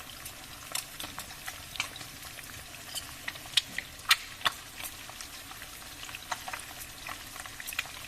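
Eggs fry in a pan of hot oil, dusted with garam masala, with a steady soft sizzle broken by frequent small crackles and pops over eight seconds.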